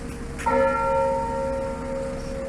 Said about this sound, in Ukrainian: Дзвін Хмельницького свято-Георгіївського храму дзвонить за Владиславом Біловим